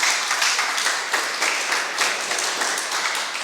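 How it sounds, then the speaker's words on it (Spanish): A church audience at a Sunday talk gives a welcome round of applause, with steady dense clapping from many hands throughout, fairly close and even in loudness. "les damos un aplauso de bienvenida"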